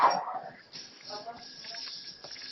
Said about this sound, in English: Is that someone's dog?